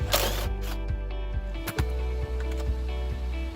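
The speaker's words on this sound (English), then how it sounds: "So go ahead and take this 10mm bolt out." A 10mm bolt is worked loose under the dash of a 2018-2019 Toyota Tundra, giving close, evenly spaced mechanical clicks in a quick repeating rhythm.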